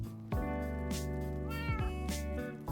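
A cat in Minecraft meows repeatedly, clear, close, drawn-out wavering meows in a quick series, with no talking over them.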